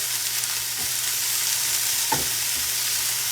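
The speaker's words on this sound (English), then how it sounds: "I'm gonna let that sizzle" Oil hisses steadily as onions, peppers and mushrooms sizzle in a skillet, a constant bright frying noise with a couple of soft stirring scrapes.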